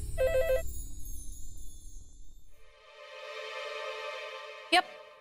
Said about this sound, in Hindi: मैं प्रज्ञा को फोन लगा,